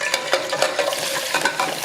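Vegetables sizzle in hot oil in a pot for callaloo with plantain while being stirred, a crackling fry broken by short scraping and stirring strokes, close up and with no voices.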